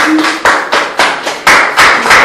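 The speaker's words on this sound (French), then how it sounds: "est-ce qu'on peut applaudir Violetta?" A studio audience on a campus TV set claps in short bursts, the applause swelling and breaking off several times, loud and close, with no talk over it.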